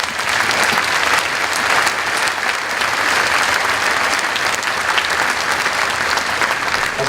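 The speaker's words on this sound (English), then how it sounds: "Please join me in one more round of applause for who we congratulate today," A large audience at a 2017 Wylie E. Groves high school graduation ceremony gives graduates a loud, continuous round of applause, dense and steady for the whole stretch.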